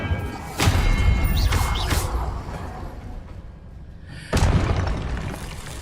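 Confringo explosive spells cast in the Hogwarts Legacy video game: two loud, sudden booming blasts about four seconds apart, each fading into a rumbling tail, with no talk.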